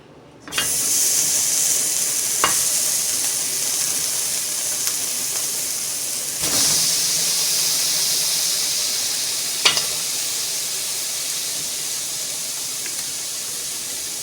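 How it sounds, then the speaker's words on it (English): Oxtail for a Jamaican-style Sunday dinner hits a hot pot and sears with a sudden loud hiss that holds steady, swelling again as more pieces drop in, with occasional knocks of a spoon. "Here I'm going ahead and adding the oxtail to the pot"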